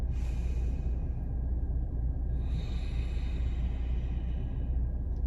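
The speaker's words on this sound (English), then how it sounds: "You hear, it's kind of like a nasally sound." Slow breathing in and out through the nose with the tongue at the roof of the mouth: a continuous, soft, airy nasal rush with a brief easing between breaths, close and steady with no talk.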